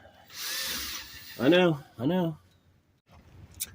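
A power drill whirs briefly, then two louder bursts of drilling with rising and falling pitch, followed by a short quieter spin and a faint high squeak.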